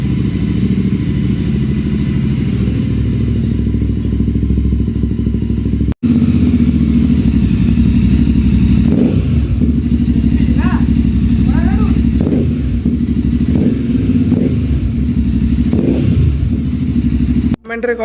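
A motorcycle fitted with a Gursewak Big Shot exhaust idles and blips loudly up close after a cold start, with rough throttle bursts and a brief cut midway while someone talks over it.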